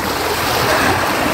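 Big, strong ocean waves surge onto the beach at Dahican, a loud continuous wash of surf with wind rushing across the microphone throughout this short moment.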